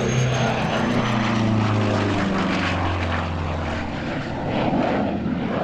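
An AC-110 twin-fuselage aircraft with two M14P radial engines and a General Electric J85 turbojet passes loudly at an air show, a sustained propeller roar with sliding pitch as it flies by.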